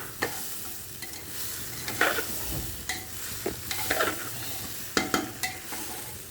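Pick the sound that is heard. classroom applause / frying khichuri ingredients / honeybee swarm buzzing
frying khichuri ingredients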